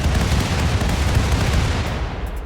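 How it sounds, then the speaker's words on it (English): A spaceship's cannon barrage in the space battle game RimWorld with the Save Our Ship 2 mod: a loud, dense, continuous rumble of overlapping heavy blasts with no voices. "We would even give them a quick little taste of our cannon barrage"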